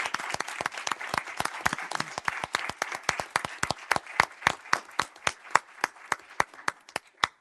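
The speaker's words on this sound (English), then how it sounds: "So to finish this off, I think she deserves a round of applause." A city council meeting erupts in applause, starting as a dense crowd clap and thinning to a few distinct, rhythmic claps near the microphone toward the end.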